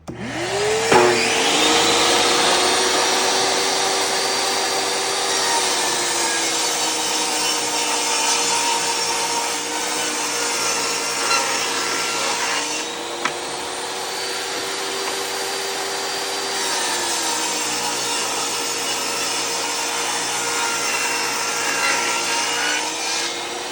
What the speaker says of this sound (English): I'm going to cut 2 more, the remaining 2 planks of the couple of hundred we've already done today.